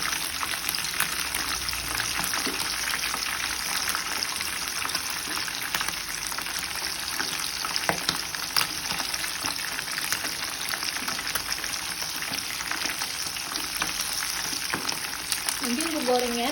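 Chicken pieces frying in hot oil, with a steady, dense sizzle and crackle holding constant throughout, close and even, with no voices over it.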